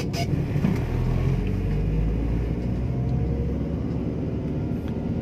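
A 2007 Nissan X-Trail Limited with manual gearbox cruises on a quiet road, giving a steady low engine and road rumble with tyre noise, constant and close from inside the cabin.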